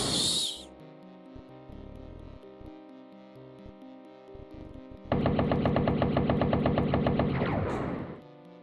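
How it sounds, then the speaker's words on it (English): Gunfire from the 1994 DOS video game Blake Stone: Planet Strike while shooting at pillars, with synthetic game effects: a rapid automatic burst late in the clip after scattered single shots over a steady electronic hum. "maybe I can shoot the pillars"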